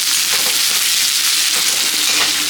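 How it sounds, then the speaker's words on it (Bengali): Chopped onion frying in hot oil for a homemade Bengali crab curry, a loud, steady, close sizzle with crackling bursts throughout and no voices. "পেঁয়াজটা হালকা ভেজে নিচ্ছি"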